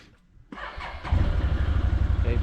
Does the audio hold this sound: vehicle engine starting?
yes